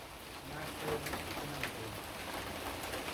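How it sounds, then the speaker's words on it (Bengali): Steady rain pattering on surfaces nearby in Tangail, Bangladesh, a constant wash of drops with a faint low voice underneath. "সকালবেলা বৃষ্টি আইছে"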